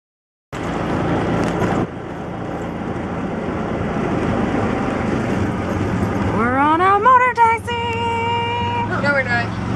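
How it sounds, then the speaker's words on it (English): Engine of a motor taxi in Oaxaca heard from a passenger's seat: a constant droning ride noise, then a rising whine as the motor revs up through its gears, with clatter and wind around it. "We're on a motor taxi."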